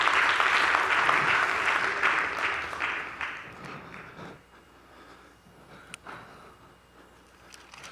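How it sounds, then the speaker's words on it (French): Church congregation bursts into warm applause during a baptism sermon, a dense wash of clapping that fades after about four seconds into quieter room noise. "Est-ce qu'on peut donner une main d'acclamation à la délégation?"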